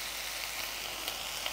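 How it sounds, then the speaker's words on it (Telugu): Moringa leaves wilting in a hot pan, giving a steady, soft sizzle with faint crackles, close and alone with no voices. "ఆకుని మగ్గనిద్దాం 1-2 మినిట్స్ అంతే."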